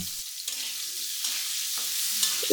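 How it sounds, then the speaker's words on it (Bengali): Cubed onions frying in oil in a pan, a bright continuous sizzle broken by a few stirring scrapes and soft clunks, close up with no speech. "তেলের মধ্যে আরও তেল দিয়ে পেঁয়াজ ভেজে নিতে হবে।"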